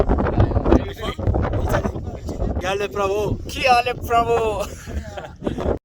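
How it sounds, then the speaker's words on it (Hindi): Strong wind buffets the microphone with low rumbling gusts at the Khunjerab Pass on the Pakistan–China border, while people talk throughout. "बहुत तेज़ हवा भी चल रही है"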